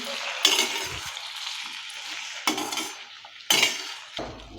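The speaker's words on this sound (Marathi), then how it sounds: "हे सर्व टोमॅटो आणि बीट आहे ते याच्यामध्ये टाकून घेऊया आणि व्यवस्थित असं मिक्स करून घ्यायचं आहे" Tomatoes and beetroot being stirred into sautéed onions in a pan for tomato soup: a steady sizzle with several sharp utensil scrapes and clinks against the pan, close and fairly loud, no talking.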